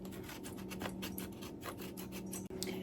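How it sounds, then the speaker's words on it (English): A block of Parmesan cheese scraped over a grater into a bowl, giving quick repeated rasping strokes, close and fairly soft, with one short gap near the end. "And I just grate it right into the bowl."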